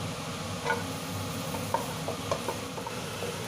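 Ginger fries in hot cooking oil, giving a soft, steady sizzle with light stirring scrapes and a few taps of a utensil against the pan, close and fairly quiet.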